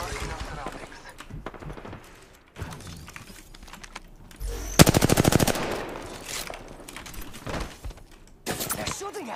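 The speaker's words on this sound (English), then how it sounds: "They're shooting at me." Rapid bursts of automatic gunfire in Apex Legends, sharp clustered rattles loudest near the middle, interspersed with other weapon shots and mechanical clicks while a player talks over the action.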